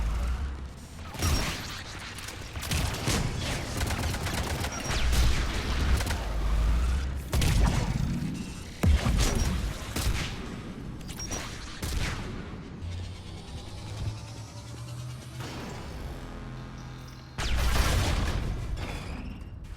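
Sci-fi gunfire and heavy artillery blasts in the video game Mass Effect 3, loud bursts and booming impacts repeating irregularly and close, with brief lulls between volleys.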